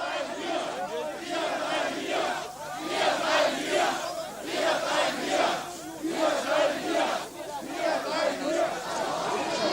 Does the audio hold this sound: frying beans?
no